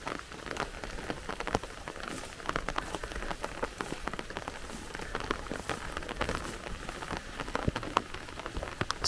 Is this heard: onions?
no